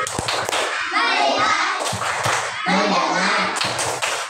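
In an Indonesian classroom, children join a counting clapping game, their hands producing short rhythmic bursts of claps separated by brief pauses, mixed with children's voices and a teacher talking.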